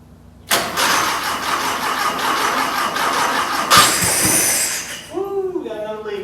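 A VW Type 4 2.0 engine, running outside the car on a stand during a Porsche 914 revival, cranks briefly, catches and settles into a loud, close, rough idle before a voice speaks over it.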